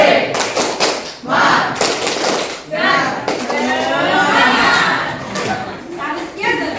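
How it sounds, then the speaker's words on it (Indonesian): A group of children in a classroom clapping the tepuk semangat rhythm, bursts of quick patterned claps mixed with chanting voices and a teacher's instructions between rounds. "Tepuk semangat."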